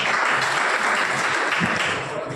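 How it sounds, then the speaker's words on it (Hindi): Audience applause welcoming an official announced at a Brahmin community association meeting in Ratangarh, a dense, sustained wash of clapping from a crowd, loud and steady, easing slightly toward the end. "तालियों से स्वागत करो।"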